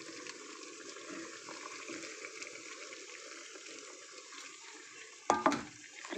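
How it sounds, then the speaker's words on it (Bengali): Water from a tap runs in a steady, even stream while a spice plate is washed, ending with a short louder splash and clatter. "মশলার থালাটা ধুয়ে একটু পরিমাণ মতন অল্প একটু জল দিয়ে দেব।"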